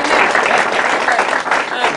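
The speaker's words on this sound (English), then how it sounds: "Let's give her a big round of applause." Audience applause at a Lean Product event in Silicon Valley, a dense, steady wash of clapping lasting about two seconds with a voice or two mixed in.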